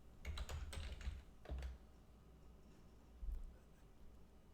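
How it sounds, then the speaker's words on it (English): Typing on a computer keyboard to enter a search term: a few quick bursts of clicking keystrokes, close and fairly quiet, with pauses between them. "And you type in the search term for Bitcoin."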